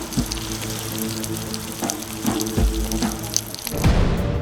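Rain pouring down on a Philippine household setting, a steady broadband wash with scattered drips and heavier splashes building toward the end, continuous and fairly close, with no voices.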